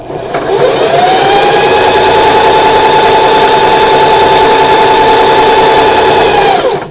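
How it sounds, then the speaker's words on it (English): A sewing machine stitches fabric for a bow tie, running in one loud, continuous whirring burst of several seconds before stopping. "presser foot down, and continue sewing."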